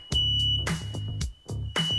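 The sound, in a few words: smoke alarm beeping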